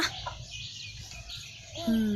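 Chickens cluck softly on and off throughout a Thai village scene, with low background noise and a brief higher bird call near the end; no one speaks.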